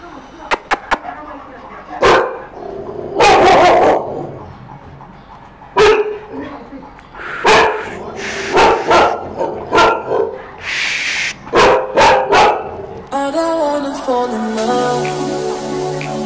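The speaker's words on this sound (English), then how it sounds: "This is a typical insecure bark." A dog gives a series of nervous, insecure barks during a dog-rehabilitation session, loud, close and irregularly spaced. People talk in the background, and a musical tone comes in near the end.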